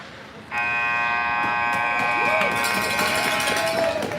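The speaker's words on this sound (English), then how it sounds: "And there's the horn to signal the end of the first period." At an under-15 youth ice hockey game, the end-of-period horn sounds a loud, sustained blast that begins abruptly and holds steady over the arena crowd noise.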